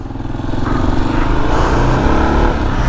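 A 2022 Kawasaki KLR 650 single-cylinder motorcycle pulls away, its engine rising from a low idle into a loud, close, throaty drone that climbs in pitch as it accelerates.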